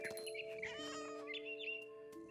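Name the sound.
cat meowing in the video game What Remains of Edith Finch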